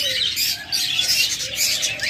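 A pair of cockatiels call close by in short, bright chirps and whistles that overlap and repeat over a light background hiss.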